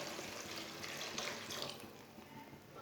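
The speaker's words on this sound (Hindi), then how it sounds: "आधा गिलास पानी डाल लेंगे।" Half a glass of water poured into a pan of fried spinach while cooking black masoor dal with spinach, a soft steady rush of liquid close by and fairly faint, running throughout.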